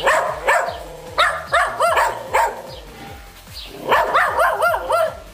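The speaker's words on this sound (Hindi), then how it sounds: "कुत्ते को खाना खिलाया जा रहा है" A dog being fed khichdi at a Netaji birthday celebration in India barks in repeated clusters, the barks near and fairly loud with brief pauses between bursts.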